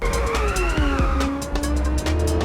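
Car drifting in a racing video game, tires squealing in wavering tones over engine roar and a few shifting revs, loud and close, with no talk.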